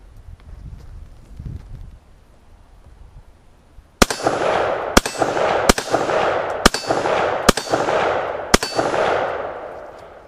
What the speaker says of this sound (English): I'm going to go ahead and fire these 11th rounds